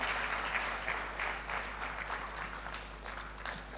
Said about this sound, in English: Another round of applause for Mr. Governor.